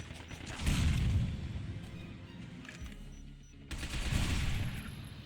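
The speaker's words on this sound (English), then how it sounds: "Now we can actually just do the shooting ourselves." Rapid bursts of gunfire and heavy firefights from the shooter video game Binary Domain, set in Tokyo, swell and fade in two loud waves with a brief lull between them.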